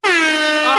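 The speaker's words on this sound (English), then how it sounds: "I realized I had the pot down for the air horn." A single air horn sound effect blares loud and close, one steady sustained honk lasting under a second, starting abruptly and holding its tone.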